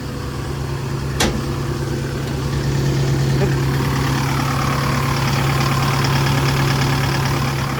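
An Isuzu four-cylinder turbo diesel on a 2013 Sumitomo HA60W-7 six-metre asphalt paver idles with a steady, loud low drone and knocking rumble, one sharp click early on.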